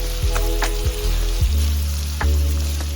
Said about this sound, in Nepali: मैले अघि चप गरेर राखेको प्याजलाई अब यहाँ राख्दैछु।